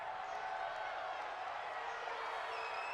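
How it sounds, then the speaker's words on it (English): A stadium home crowd in the Madden 21 football video game roars in a steady, dense wash of cheering and murmur, with a few claps mixed in. The roar is quiet and continuous, like a distant backdrop. "This home crowd, they're happy with that call."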